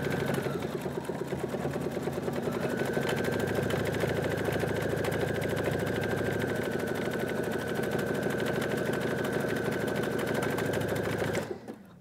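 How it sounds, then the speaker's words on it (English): A Husqvarna Viking sewing machine stitches a satin stitch with a steady, fast mechanical chatter that runs nearly twelve seconds without pause, close up, over a faint motor whine. "I'm going to sew a little bit and then I'll stop."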